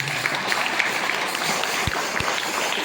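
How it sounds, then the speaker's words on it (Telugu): An indoor audience claps for donors at a gathering, a dense, steady wash of applause that carries on throughout, with a couple of low thumps and no clear speech. "వారిని చప్పట్లతో అభినందిస్తాం."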